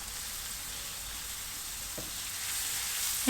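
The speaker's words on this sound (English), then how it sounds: "I'm going to saute until I have some nice golden color." Onion and vegetables sauté in a pan of mixed vegetable and olive oil, making a steady, even sizzle that continues throughout at close range. A faint stirring clink comes near the end, and no one speaks.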